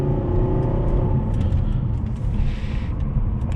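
A 2009 Volvo S80 D5 R-Design with Polestar tuning, its diesel engine droning as a low, steady hum with road rumble, heard from inside the car while it drives.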